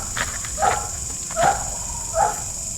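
A dog barks three times at an even, unhurried pace, each bark short and moderately close, with quiet background noise between them.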